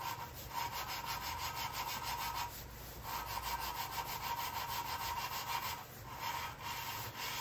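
Steady abrasive rubbing and scraping on a holed BMW M3 E46 engine block under repair, a continuous gritty rasp in close-up with brief pauses near the third and sixth seconds.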